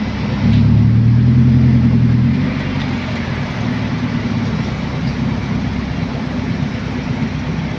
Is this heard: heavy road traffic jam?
yes